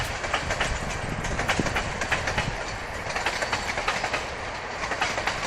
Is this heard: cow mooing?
no